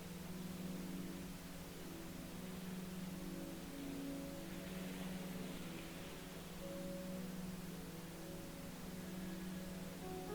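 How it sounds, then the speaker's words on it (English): Pink noise plays as a steady, even hiss with a faint low hum underneath, unchanging and alone throughout. "Pink noise is particularly effective for mental focus because it masks distracting sounds across all frequencies in a balanced way."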